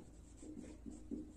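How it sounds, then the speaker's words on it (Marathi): Pen scratching out a formula on paper during a Marathi maths lesson on mean, median and mode, soft close strokes in a quiet room, with a few slightly louder scrapes near the end. "आधी इथे सूत्र लिहितो"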